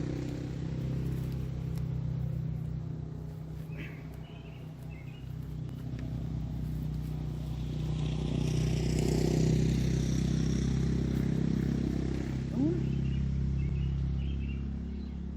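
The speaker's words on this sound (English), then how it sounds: "People moving around on bikes, motorbikes." Low engine drone of motorbikes passing at a distance, swelling and fading over several seconds, with faint insect and bird sounds in the background.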